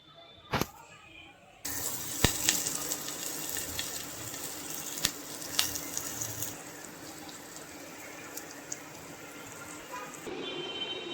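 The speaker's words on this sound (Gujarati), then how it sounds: "તો તેલ મૂકી દીધું, જો તેલ આવી જાય એટલે મસાલો શેડવી નાખીએ" Masala spice mix for potato gota hits hot oil with a sudden, steady sizzle after a quiet start, a broad hiss with small pops running on close and fairly loud.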